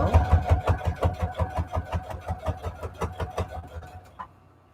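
A sewing machine back-stitches through junk journal paper signatures with a slow, close, regular thumping rhythm that gradually eases off and stops, with no speech.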